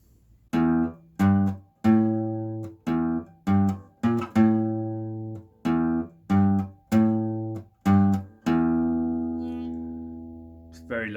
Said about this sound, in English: We're going to learn a very famous rock riff now